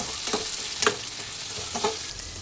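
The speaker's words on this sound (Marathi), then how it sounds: "थोडंसं मीठ घालायचं आणि कांदा छान ब्राऊन होईपर्यंत भाजून घ्यायचा." Sliced onion with a pinch of salt fries in a pan for a matar paneer: a loud, steady sizzle near the listener, broken by a few scraping stirs.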